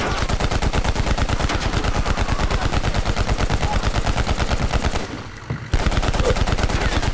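Rapid automatic gunfire in Call of Duty Black Ops Cold War, a loud sustained stream of evenly spaced shots that briefly cuts out near the end before resuming.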